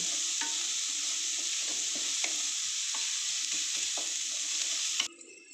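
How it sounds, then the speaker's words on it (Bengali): Onions frying in hot oil give a loud, steady sizzle with occasional stirring scrapes, the sizzle cutting off abruptly near the end. "পেঁয়াজটা একটু ব্রাউন রঙের হবে"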